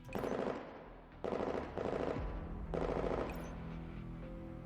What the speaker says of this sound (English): Bullet rains down on the ditch, and their heavy suppressive fire leaves us completely unable to move.